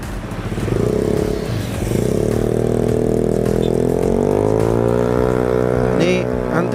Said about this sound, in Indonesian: Ini antrian kendaraan mulai mengular di gardu multi pemirsa